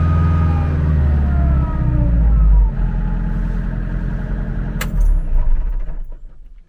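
A Kubota LX3310 tractor engine with a cab, winding down from high revs to a lower idle, its pitch sliding downward, loud and close, with a sharp clunk near the end and no talk.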